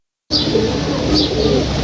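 Pigeons cooing softly at close range during rain, with low murmuring coos and a couple of brief higher calls over a steady hiss of rainfall.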